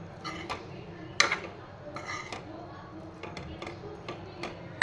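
Boiled potatoes with crushed peanut powder, tossed in a pan for a fasting potato dish, give light scattered clinks and scrapes of a spoon against the pan, faint and close, with a few sharper taps.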